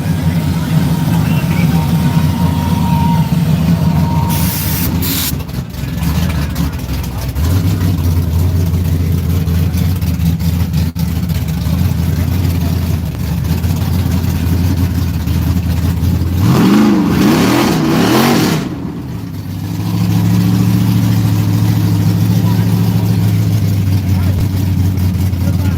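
Big-block drag cars at Yello Belly Dragstrip: loud, lumpy idling runs throughout, broken by a sharp rev and a rising throttle blip partway through. A voice talks over the engine noise.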